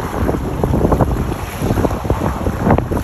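Strong wind buffets a fishing boat out at sea, a loud continuous roar and gusting rush with splashing water beneath, close and without any talking.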